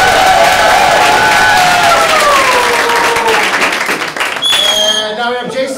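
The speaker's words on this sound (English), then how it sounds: "Just go ahead and give her a cheer." Audience at a quarterly awards event cheering and applauding to vote for a contestant, a loud sustained crowd roar with whoops and clapping that thins out near the end.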